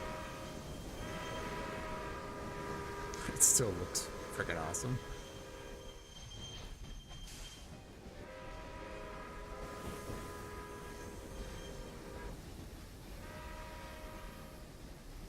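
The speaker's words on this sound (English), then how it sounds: "we're definitely getting a lot of backup with this many trains running on it" Trains in the railway video game Railway Empire rumble along busy, congested tracks, with several sustained horn blasts rising over the rolling noise while someone talks over the scene.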